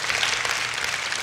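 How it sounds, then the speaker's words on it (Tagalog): A church congregation applauding loudly together during a sermon, a dense, steady wash of clapping that fills the whole moment without a break. "E di palampakan natin siya ng malakas na palakpak"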